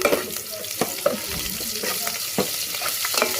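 Crushed garlic dropped into hot oil for a tempering in a home kitchen, a steady close sizzle and fry with stirring scrapes and occasional spoon clicks throughout, no talk.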